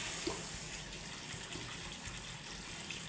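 Water poured into a cooking pot of potato and plantain curry, a steady faint gushing stream running throughout without pause, with no voices.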